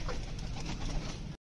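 A pigeon coos softly at close range in a short, low burst, with faint background rustle and no talking.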